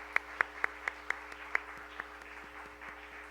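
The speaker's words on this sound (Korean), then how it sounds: "우리 환영의 박수 한번 부탁합니다" A church congregation gives a welcome during a Sunday service with about seven separate, sharp handclaps spaced across the first two seconds, then only a low room hum remains.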